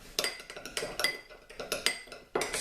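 A utensil stirs seasoning salt, garlic powder and onion powder in a bowl, giving close, rhythmic clinks and scrapes in quick repeated strokes, about six or seven of them with no talk.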